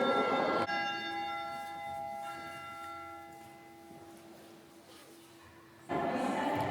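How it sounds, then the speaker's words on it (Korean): The Bell of Wishes in the small church on the island in Lake Bled, Slovenia, sounds a single loud, clear stroke that rings out and slowly fades. A second strike begins just before the end. "호수를 물들이는 종소리는 듣기 좋다"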